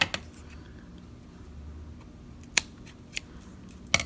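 A few sharp, isolated snips of scissors trimming a loose end of crochet yarn, close and fairly quiet against a still room, with spaced clicks near the end.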